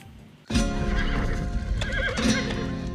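A horse gives a loud, close whinny with quavering, rising and falling pitch, and hooves clop in the background throughout.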